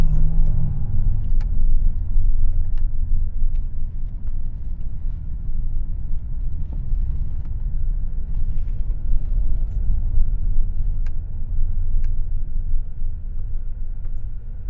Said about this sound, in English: Wow, in sport, the throttle is so sharp.